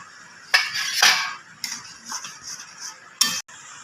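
Metal pot lid lifted off a cooking pot during home cooking, giving a few sharp clinks and clatters at close range, with faint rattles between, no speech.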